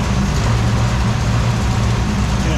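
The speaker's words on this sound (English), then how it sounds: "See if I can get it idling a little bit smoother." A 1964 beater's engine idles with a steady, loud low rumble and a slightly uneven throb, running alone without talk.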